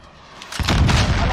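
Cruise missile strike in Call of Duty: Modern Warfare, a single heavy blast that bursts in after a quiet lead-in and rolls on as a loud, rumbling boom.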